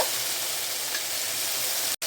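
Ginger garlic paste fries in a pan for a chicken gravy, giving a steady close sizzle with light stirring throughout.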